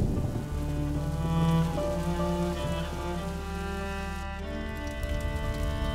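Steady rain falls in the video game A Plague Tale: Innocence, a constant close hiss beneath sustained musical tones, with no talking.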